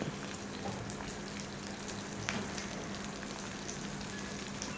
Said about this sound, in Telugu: ఈ విధంగా సిమ్లో పెట్టుకొని ఇవి దోరగా వేయించుకోవాలి